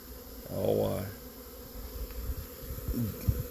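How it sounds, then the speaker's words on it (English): A steady hum of honeybees in a mid-February hive, with a louder buzzing swell early on and scattered softer buzzes afterward, no voices. "So yeah, these are new bees"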